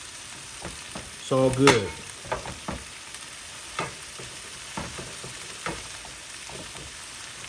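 Cabbage and bok choy being stirred and tossed in a hot frying pan for Southern fried cabbage, with a steady sizzle under repeated scraping and stirring strokes and a brief spoken remark.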